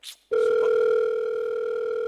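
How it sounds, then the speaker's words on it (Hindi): A telephone sounds a steady, unbroken electronic tone that starts abruptly after a brief noise and holds loud and even for nearly two seconds, with no talking over it. "सर आपका फोन आ रहा है।"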